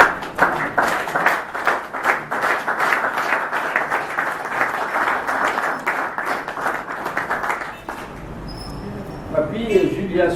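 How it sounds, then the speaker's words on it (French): Wedding guests at a civil marriage ceremony applaud the couple, a dense, steady round of clapping lasting several seconds before it fades, with voices rising underneath and briefly taking over near the end. "qui sont applaudis par tout le monde"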